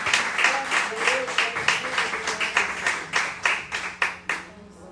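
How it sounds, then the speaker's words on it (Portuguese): Church congregation applauding during an evening service, a crowd clapping in a loose rhythmic pulse that settles into a steady beat, fairly loud and close, with voices and cheers underneath. "aplauda o Senhor com o seu melhor nessa noite"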